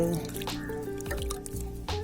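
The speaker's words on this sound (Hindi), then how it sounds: "अब हल्के हल्के मैं इसके ऊपर में पानी डाल दूंगी" Water poured gently from a container onto freshly planted garlic in a home garden soil bed, a close trickle with a few drips and splashes, no voices over it.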